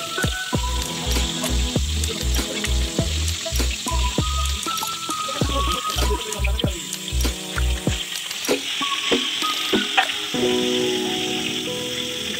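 Pangas fish pieces fry lightly in spattering hot oil, a continuous nearby sizzle running under rhythmic low thumps and steady tones.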